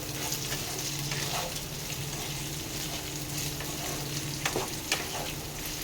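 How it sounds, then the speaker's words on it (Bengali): Cut okra frying in a pan for a spicy Bengali okra dish, a steady, close sizzle with a low hum beneath and a few louder stirring scrapes near the end, no voices. "তার মধ্যে দিয়ে দেবো আমি যে ঢেঁড়সগুলো কেটেছি ওগুলো দিয়ে দেবো।"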